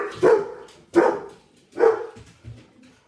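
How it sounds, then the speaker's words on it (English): Dogs bark outdoors in a few loud, separate bursts, three strong barks and a weaker fourth, reacting to kids playing outside, with short pauses between them and no talk. "my dogs like to think they're tough and bark at everything"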